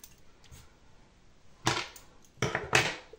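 Scissors snip crochet yarn while a mistletoe branch is being crocheted: a few short, crisp cutting clicks close by, mostly isolated against a quiet background, with two sharper snips near the end.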